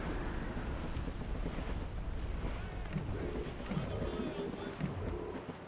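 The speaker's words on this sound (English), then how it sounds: "That wind's trouble, Captain Cormac." Wind roars over the open sea in the Assassin's Creed Rogue video game, a steady broadband rush mixed with wave wash and faint creaks, with a few soft voices underneath.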